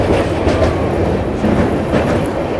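The Marathwada Sampark Kranti Express runs with a loud, steady rumble and dense rolling rail noise throughout, heard close from aboard with no talk.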